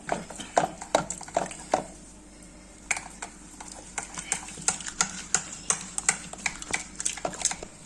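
A ladle mashes and stirs tamarind-leaf dal in a pot, making repeated close knocks and scrapes against the metal in an uneven rhythm, with a quieter pause partway through.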